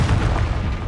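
A Confringo blasting spell explodes in Hogwarts Legacy, a deep, loud rumbling boom that fills the whole second with sustained low-end roar and no voices.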